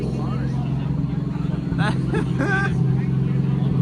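A car engine idles with a steady low rumble at the Amelia Island 2023 car show, with voices talking faintly over it. The car was once burned in a fire.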